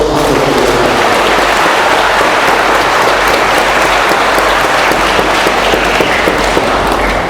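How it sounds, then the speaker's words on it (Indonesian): A Catholic cathedral congregation in Merauke applauds during the Palm Sunday celebration, a steady, dense wash of clapping that stays loud and even for several seconds with no voices over it. "Kita berikan aplaus."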